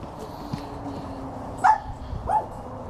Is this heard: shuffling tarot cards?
no